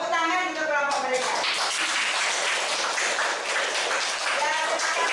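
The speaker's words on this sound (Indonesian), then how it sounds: "Tepuk tangan untuk kelompok mereka." Classroom applause for a student group, dense clapping filling the room after a short spoken prompt from the teacher, sustained and fairly loud before tapering off.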